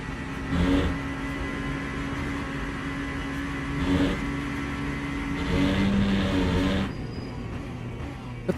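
In a racing game with a Genesis car at Barcelona or Paul Ricard, tires rumble loudly over curbs in several bursts, at about one, four and six seconds, over the steady whine of the engine.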